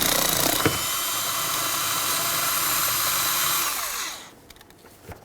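Power tool whirring steadily up close while backing out 10mm bolts from inside a Dodge Caliber steering wheel, running continuously for about four seconds before spinning down and stopping.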